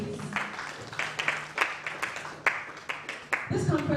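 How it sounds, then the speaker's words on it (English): A business-of-law conference audience claps, scattered sharp hand claps building into uneven applause, mixed with voices and a brief swell of sound at the end. "A round of applause, please."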